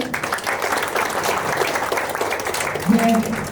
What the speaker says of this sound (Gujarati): તો આ જોરદાર કપલ માટે જોરદાર તાળીઓ